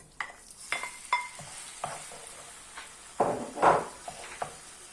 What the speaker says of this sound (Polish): Teraz na tą samą patelnię wrzucam grzybki.